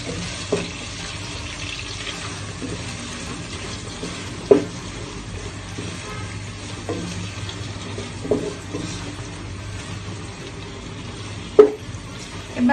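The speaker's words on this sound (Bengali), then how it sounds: "এরপর নেড়ে নিচ্ছি যাতে করে পেঁয়াজের কাঁচা গন্ধটা চলে যায়।" Onions fried in a pan for chicken kosha, a soft continuous sizzle with a few sharp knocks and scrapes of a spatula stirring them, fairly quiet and with no voices.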